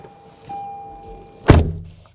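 A door on a 2020 Lexus RX 350 F Sport shuts with a single solid, close thunk from outside, following a faint steady chime and a quiet rustle.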